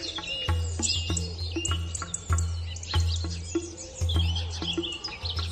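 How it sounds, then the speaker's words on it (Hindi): Birds chirp and tweet through a quiet morning, with bright high calls repeating over a steady low hum and faint insect-like buzzing. "अगली सुबह चिड़ियों की चहचहाहट से"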